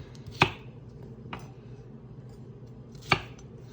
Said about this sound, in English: These I'm just gonna cut into what will fit on a fork nicely because it's gonna be a salad